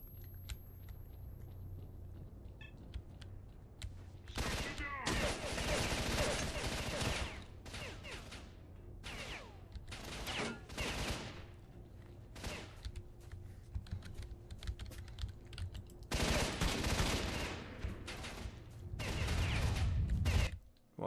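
Sniper rifle gunfire in the shooter game S.T.A.L.K.E.R.: Shadow of Chornobyl during close combat, with repeated sharp loud shots and bursts spread across a long stretch of busy game noise, close and dense.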